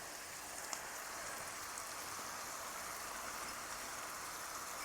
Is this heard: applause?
no